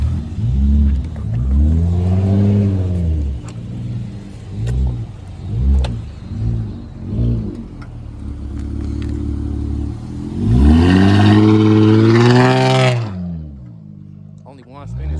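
A Chrysler 300 revving through a burnout, its engine rising and falling in repeated surges before a long, loud climb near the end. Close and loud, with voices talking over it.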